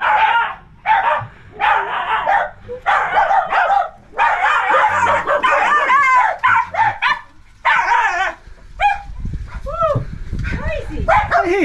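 Small dogs barking and yapping in rapid, excited bursts close by, some yips rising into whimpering cries, with a person's voice mixed in among the barks.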